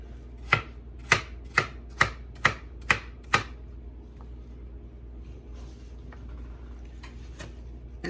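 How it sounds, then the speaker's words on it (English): Seven sharp, evenly spaced knife chops sound up close as apple slices are cut in half on a board, followed by quiet handling noise. "And then I'm probably gonna cut each slice in half."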